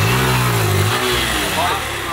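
A Honda Titan 160 motorcycle converted to three wheels revs its engine loudly and close, a steady mid-pitched drone under overlapping talk.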